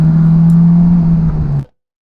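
A Honda S2000 pulling away onto a warm-up lap at Donington Park, a loud sustained engine drone at steady pitch under throttle that cuts off abruptly after under two seconds.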